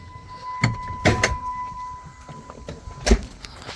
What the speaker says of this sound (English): pop the hood on this thing